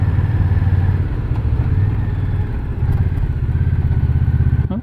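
Steady, rumbling engine drone of an Indian Scout Bobber Twenty motorcycle cruising on the road, close and continuous with a low throbbing note and faint road clatter, no talking.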